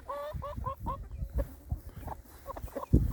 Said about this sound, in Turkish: Buranın ağası şu horoz.